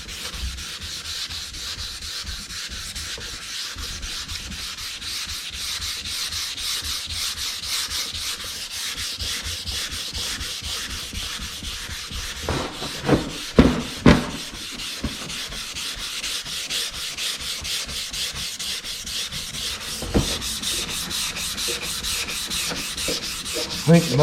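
Continuous rhythmic hand sanding scrapes over Z28 car parts, close and steady for the whole stretch, with a few louder knocks and handling bumps near the end.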